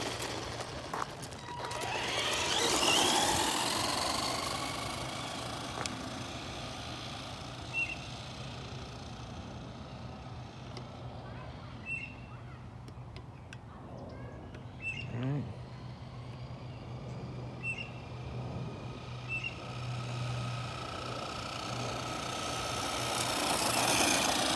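A Redcat Blackout XTE brushed-motor RC truck on its stock 3000 mAh nickel metal hydride battery whines and buzzes as it speeds up and slows down, the motor pitch rising and falling against a steady background rumble, with someone talking at times.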